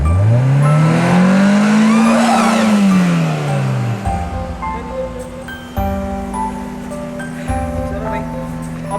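A car is driven in reverse out of deep snow during an Arctic snowstorm in Luleå, Sweden. A loud engine revs and whines, rising then falling, before dropping to a steadier idle hum while people talk nearby.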